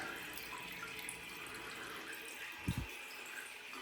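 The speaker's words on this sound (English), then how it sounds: "Toilet's filling up." Water rushes steadily into a newly installed toilet tank, a continuous hissing fill with a couple of brief thumps near the end and no talking.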